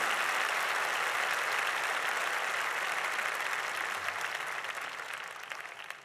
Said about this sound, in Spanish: Démosle ese aplauso tan fuerte como podamos a nuestro Señor.